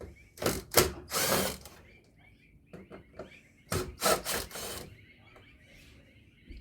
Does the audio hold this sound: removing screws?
yes